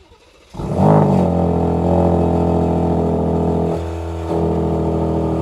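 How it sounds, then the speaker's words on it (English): A 2026 Dodge Charger Scat Pack's twin-turbo inline six, remote started, cranks and fires up loudly, settling into a steady deep idle with a brief dip in tone partway through, no talking. "to hear from that twin-turbo inline six-cylinder, which is, it's a pretty loud startup"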